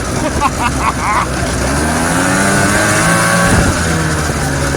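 A 1980s off-road vehicle with a CVT and a freshly fitted belt is driven hard, its small engine revving and droning steadily close by, pitch rising and falling, with a voice briefly exclaiming over it.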